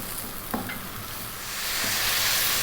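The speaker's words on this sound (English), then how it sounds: "We might get a bit of moisture from the mushrooms as they cook." Mushrooms, onions and garlic frying in a pan, a steady hiss that swells louder toward the end, with a brief stirring clack early on, no voices.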